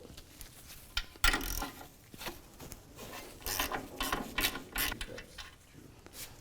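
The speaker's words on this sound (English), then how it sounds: "we're going to grab a 17mm socket and take off this top bolt." A 17mm socket ratchet works a top bolt loose on a 2007–2013 Mitsubishi Outlander during front inner tie rod replacement, giving quick clicking bursts of ratcheting, close and fairly quiet, without talk.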